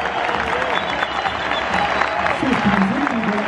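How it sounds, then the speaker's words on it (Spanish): Stadium crowd at a Millonarios versus Defensa y Justicia CONMEBOL match at El Campín claps from the stands, a dense, steady wash of applause with someone talking over it nearby. "Pero a Cortés aplaudido también."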